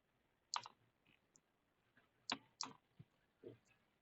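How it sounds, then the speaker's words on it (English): A handful of crisp, isolated keyboard clicks, close and quiet, come in irregular bursts with brief silences between them. "Let me see if the keyboard is working now."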